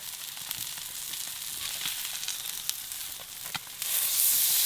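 Crab-stuffed flounder sears in a hot pan with a steady, close sizzle and crackle that swells louder near the end, with no voices.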